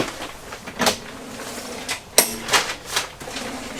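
Large storage drawer in a 2023 ATC Pro Series toy-hauler camper trailer sliding open and shut, several short scraping slides and a sharp clack, close and clear in a quiet room.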